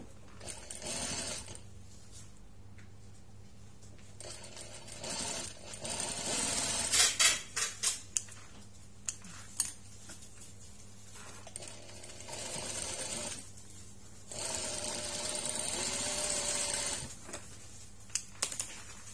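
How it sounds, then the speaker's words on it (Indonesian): A sewing machine stitching the body of a 2-liter water bottle bag, with short bursts of rapid mechanical stitching between quieter handling sounds and clicks, close and fairly loud. "Kita jahit lagi sekali. Ke bodi satunya."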